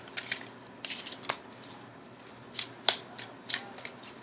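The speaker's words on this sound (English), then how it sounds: "So the cards have already been cleared and pre-shuffled, so I'm shuffling them again before I begin the reading for Aries." Shuffling of a Witches Tarot deck, a Wiccan-style set of tarot cards: quiet, irregular riffling and clicking bursts of cards scattered through a soft, hushed room, with no talking.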